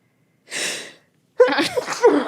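A single sneeze bursts out, followed quickly by a person talking close by.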